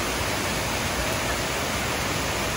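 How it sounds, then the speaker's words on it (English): A waterfall at a swimming spot in Mexico, steady broadband roar of falling water, loud and continuous throughout with no voices. "on the end, we have a beautiful waterfall we can swim in"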